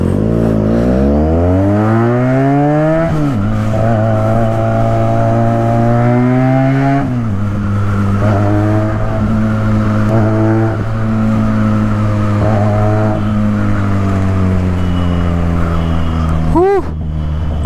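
A Benelli TNT 300 motorcycle is ridden hard, its engine loud and close, climbing through several rising gear pulls with brief dips between shifts and a sharp rev near the end.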